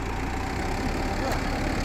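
A tractor engine, from a Mahindra versus John Deere tochan pulling contest, runs steadily with a low rumbling idle, close and continuous throughout the short stretch.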